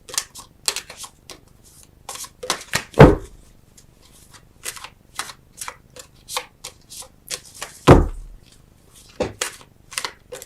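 Tarot cards being shuffled and handled during a reading, heard as close, irregular papery riffles and taps with two louder thumps, fairly soft and without talk.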